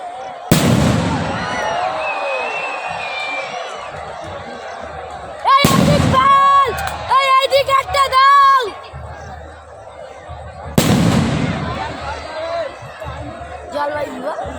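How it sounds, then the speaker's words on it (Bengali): Fireworks at a night-time celebration, three loud bursts spaced about five seconds apart, each a sharp broadband boom with crackling tails, while excited voices chatter and shout close by throughout. "জলের বাজি"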